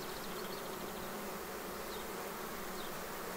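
A swarm of honeybees hums at the hive entrance during a swarm install, a dense, steady drone of many wings close by, with no talking.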